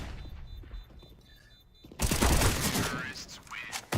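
Rapid bursts of M4A1-S rifle fire and surrounding gunfire in a Counter-Strike match on Mirage, dense and loud after a quieter stretch with a caster talking over the action.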